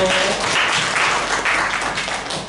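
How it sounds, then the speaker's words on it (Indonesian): Room full of people applauding together at a morning training session, a continuous burst of clapping that swells and fades over a couple of seconds. "tepuk tangan buat kita semuanya"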